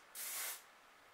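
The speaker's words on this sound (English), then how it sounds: "I'll kind of lift my hair, give it some sprays" A single short burst of hairspray misted onto short hair, a soft close hiss lasting under half a second, then quiet.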